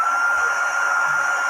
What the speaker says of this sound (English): I just want to fix it with a little bit of hair dryer.